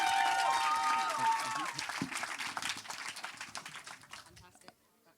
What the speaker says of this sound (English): Let's have another round of applause while Poppy leaves